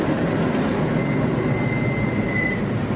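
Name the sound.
train brakes squeaking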